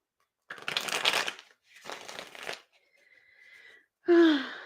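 A Light Seers Tarot deck is handled and shuffled in two rustling bursts, followed by a faint sliding of cards, then a short vocal sound at the end.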